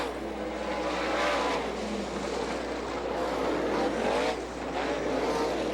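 Sprint cars race around a dirt oval at an All Star Circuit of Champions event in Butler, Michigan, their engines roaring loud and steady with rising and falling swells as cars pass.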